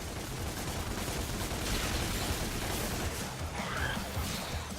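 Rapid pistol fire from the Ebony and Ivory handguns in the action game DmC: Devil May Cry, a dense, continuous rattle of quick shots mixed with combat noise.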